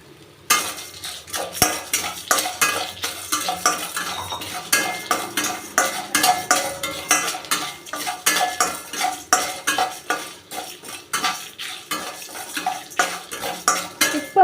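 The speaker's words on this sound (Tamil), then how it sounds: "நான் கல்லுப்பு போட்டு இதையும் வறுத்துக்கிறேன்" Rock salt and dried red chillies dry-roasting in a pan, with a rapid rhythmic run of metal spoon scrapes and rattling grains, close and steady, no talk.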